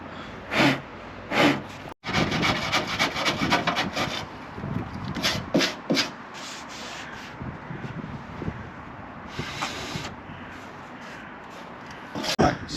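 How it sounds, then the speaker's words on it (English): Hand sanding on vintage motorhome metal bodywork around a rust hole: repeated scraping and rasping strokes, close and fairly loud, in an uneven rhythm with brief pauses between bursts. "Sanding that down"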